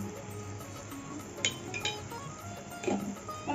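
Rohu fish pieces with salt stirred in a cooking pan: a few light metallic clinks and scrapes of a spoon against the pan over a quiet background.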